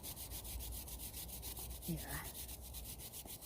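Brush scrubbing chain degreaser into the chain adjusters and spindle nuts of a Suzuki Gladius motorcycle; close, rhythmic bristle rubbing strokes repeat steadily throughout, with a brief murmured word.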